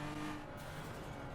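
A Toyota Supra MK4 drift build in Assetto Corsa at Spa revs hard during a clutch kick, a loud, close engine roar that holds steady with a brief surge, no voices.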